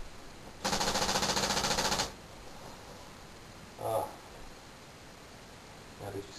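An X7 paintball machine gun on a laser-activated, motion-detecting setup in the woods fires one long rapid burst, then two brief shorter bursts, sharp and close.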